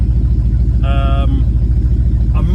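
A fuel-injected 1968 Lincoln Continental engine with Holley Sniper EFI idles with a steady low rumble, close and even throughout, with a brief tonal whine partway through.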